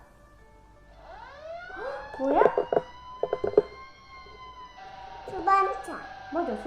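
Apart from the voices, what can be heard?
fire truck siren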